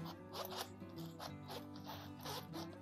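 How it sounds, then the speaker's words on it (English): A zipper runs around a Coach medium zip-around wallet with quilting, giving a close, steady, ratcheting rasp over several seconds with no talking. "Let's unzip it. Zipper still pretty smooth."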